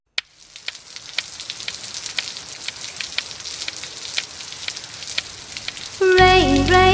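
Cartoon rain falling in a nursery-rhyme animation, a steady patter of drops throughout, then a musical tone enters near the end.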